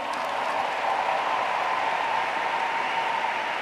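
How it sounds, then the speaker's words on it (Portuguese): Church congregation applauding to welcome a worship group leader to the stage at a praise and worship congress, a steady, dense wash of clapping sustained evenly throughout without any spoken voice. "Vamos recebê-la com um aplauso também"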